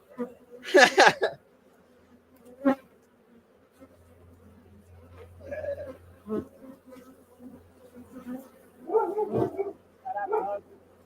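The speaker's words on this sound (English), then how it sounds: "There's fucking bees everywhere at the moment." Bees hum in short bursts around a beekeeper's frames during a honey harvest, a close buzz swelling and fading with quiet gaps, while someone talks between the passes.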